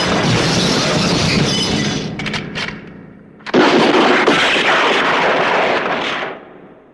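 Heavy gunfire from a powerful gun in a 1995 Hindi film soundtrack, a loud sustained roaring burst that breaks off briefly and then resumes just as strongly, close and alone.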